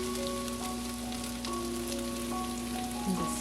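Skin-on cod pieces and a scallop sizzle skin side down in a hot pan, a steady close hiss with a faint tonal hum underneath.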